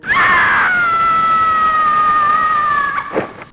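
A woman's long, piercing scream rings out as a horror sound effect, one sustained shrill cry that holds steady for about three seconds before breaking off, loud and close, followed by a brief thud.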